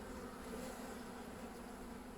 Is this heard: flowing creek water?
no